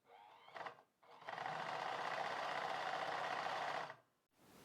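A sewing machine being repaired for thread stuck in the handwheel is run backwards: a brief stuttering start, then a steady, close mechanical whirring and rattling hum for nearly three seconds before it stops.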